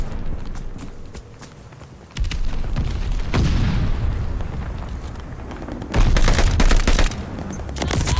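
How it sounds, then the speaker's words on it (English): Explosions from an incoming glide bomb and bursts of gunfire in a Call of Duty: Vanguard team deathmatch on the Berlin map, with heavy booms around two and six seconds amid rapid rattling shots and footsteps, loud and close. "Enemy's got a glide bomb incoming."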